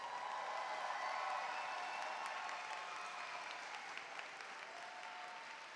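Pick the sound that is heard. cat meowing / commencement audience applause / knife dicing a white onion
commencement audience applause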